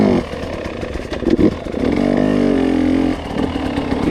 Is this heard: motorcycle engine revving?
yes